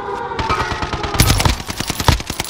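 Rapid bursts of automatic gunfire from Call of Duty Rebirth, a dense run of sharp shots fired close and loud, alone without talk.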